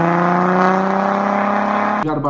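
An Audi B8 with a tuned 3-liter TDI diesel and aftermarket exhaust holds a deep, steady droning rumble, loud and close, before it abruptly cuts off near the end.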